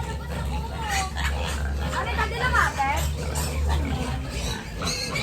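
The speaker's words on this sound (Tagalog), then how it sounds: "Ang cute naman ng mga baboy nyo." Pigs grunt and squeal in a pen, a busy close chorus running throughout while several people talk over them.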